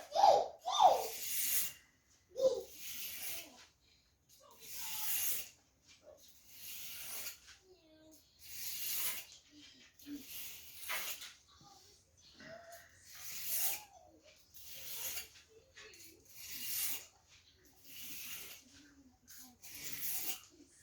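A knife is stoned with repeated scraping swipes across a sharpening stone, a steady series of soft rasping strokes. A quiet voice can be heard faintly in the background.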